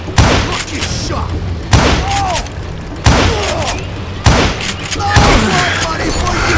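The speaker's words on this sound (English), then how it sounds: "Look, you shot!" Gunshots in the Western shooter Call of Juarez: Gunslinger, five loud, booming blasts about a second apart, each followed by ringing and ricochet-like whines.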